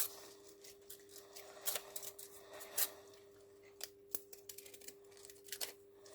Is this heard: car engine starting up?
no